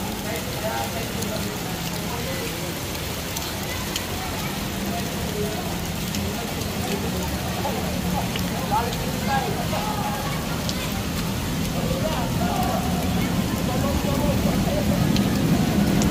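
Typhoon rain pours over floodwater in the streets of Quiapo, Manila, a steady close hiss and patter of falling water with faint voices in the background, rising slightly louder toward the end.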